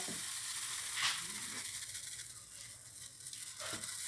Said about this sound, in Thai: ผัดพริกแกงให้หอมก่อน